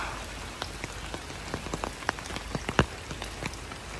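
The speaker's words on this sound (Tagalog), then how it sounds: "Maulan ang ating activity dito sa Burawin, Leyte." Rain falls outdoors in Burauen, Leyte, as a steady hiss with scattered nearby drops tapping on surfaces.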